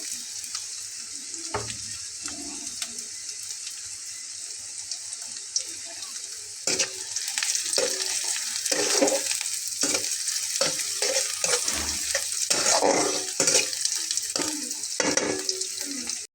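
Chopped garlic and green chillies fry with onion in a pan for a bitter gourd dish. A steady hissing sizzle runs throughout and grows louder midway, with scraping stirs and occasional knocks against the pan.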